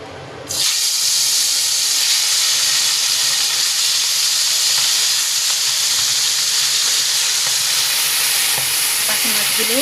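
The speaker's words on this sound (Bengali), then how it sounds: "এভাবে বাকি মাছগুলো ভেজে নিব।" The remaining bata fish drop into hot oil, and after a brief quiet moment a loud, close sizzle bursts up and continues steadily, with faint crackles and stirring toward the end.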